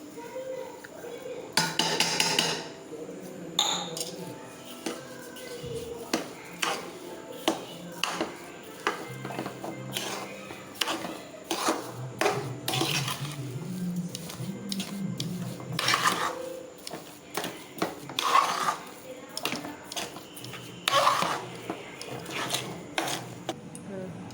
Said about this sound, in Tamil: அதையும் போட்டு அதிலே கிண்டிக்குவோம்